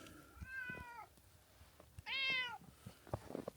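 An outdoor cat meows in snowy weather, two drawn-out, clear meows close by with a short gap between them, followed by faint rustling.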